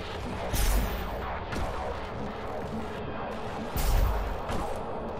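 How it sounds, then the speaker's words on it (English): Heavy gunfire bursts and booms from the video game DOOM Eternal, loud and close, with two dense blasts rising over a constant rumble of in-game chaos. "Thought I heard something still shooting at me."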